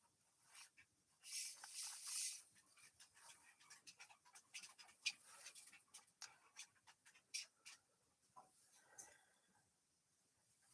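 A puppy pants softly close by, with quick, light breaths and a few small patters and ticks of movement, intermittent over a quiet room.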